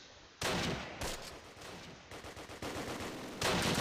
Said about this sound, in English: they're hitting on that tank, that's what it is